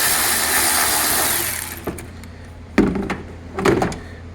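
A race car's air filter box is unlatched during a turbo restrictor inspection: a steady background hum fades, then three sharp plastic clicks and snaps sound up close, with no talking.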